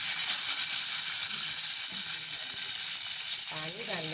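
Hot ghee with whole cardamom pods crackles into a loud, steady frying sizzle as water is added, a dense hiss that carries on throughout with a faint voice briefly underneath.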